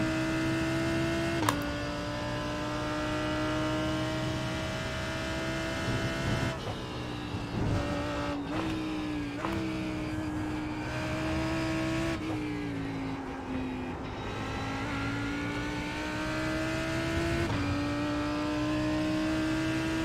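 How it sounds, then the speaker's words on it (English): A race car engine in a racing video game, running laps of Silverstone during practice for a 12-hour endurance event, drones loudly and continuously, its pitch climbing and dropping with gear changes and braking, with no voices over it. "the engine sounds pretty loud to me at the moment."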